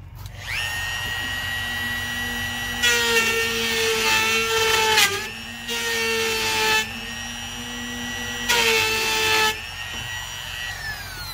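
Power saw cutting plastic parts for an aquarium overflow, three loud whining bursts of a few seconds each over a steady motor hum, close by with no talk.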